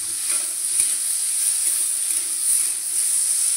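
Mukhi kochu (taro) chunks fry in a pan with turmeric, giving a steady bright sizzle and hiss with occasional stirring clinks and scrapes, close up and continuous without talk.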